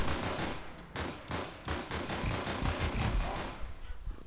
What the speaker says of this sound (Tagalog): May bumaril sa atin.